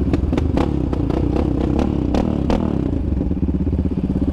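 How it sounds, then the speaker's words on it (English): ATV fitted with a Monster aftermarket exhaust revving on a trail riding park, a loud steady engine drone with sharp clattering bursts and rising throttle blips, close up and without talk. "he's sounding a whole lot better with that Monster exhaust"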